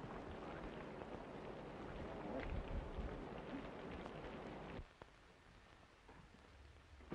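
Steady rain pours during a storm in an old film scene, a soft continuous hiss with low rumble that drops abruptly quieter near the end.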